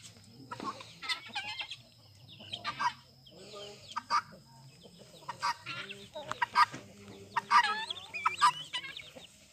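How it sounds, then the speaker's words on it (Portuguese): Chickens and a rooster at a farmstead cluck in repeated short bursts, fairly close, with a low background hum and occasional soft talk. "E aí as galinhas deles lá, ó,"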